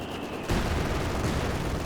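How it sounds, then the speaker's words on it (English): Artillery fire from a Soviet ZiS gun in Company of Heroes 2, a sudden loud burst of dense, rumbling gunfire that starts abruptly and keeps up as a continuous roar of battle. "under artillery fire from the ZIS of all things"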